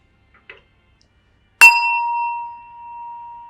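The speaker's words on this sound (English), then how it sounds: "This is the bell of truce." A single bell of truce rung once, a sharp metallic strike that rings on in a clear sustained tone, fading slowly, after a faint brief rustle in near silence.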